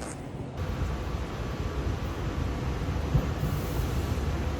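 Steady low rumble and rattle of a commuter train in motion near Philadelphia's 30th Street Station, continuous and fairly loud throughout with no voices.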